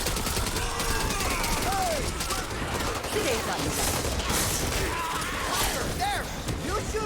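Gunfire in the zombie shooter game Back 4 Blood: dense, continuous bursts of shots layered over a busy game mix of effects and creature noises, with no clear breaks.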